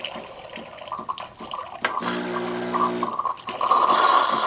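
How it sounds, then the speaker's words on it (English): The steam wand of a Gaggia Baby Twin semi-automatic espresso machine hisses and gurgles in spurts as it purges, then settles into a steady rising hiss that grows louder toward the end, with no talking. "open it again, and you see it'll start steaming"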